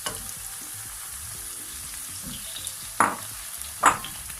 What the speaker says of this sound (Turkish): Biberlerim 2-3 dakika kavrulduktan sonra domateslerimi ilave ediyorum.